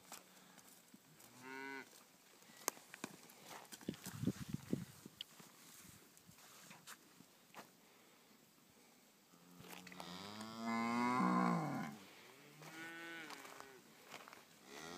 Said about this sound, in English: Really good natured cattle.